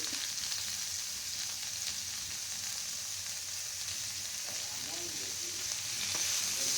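Beetroot frying in a pan with salt and turmeric added, a steady close sizzle and crackle running throughout with faint stirring scrapes, no talking.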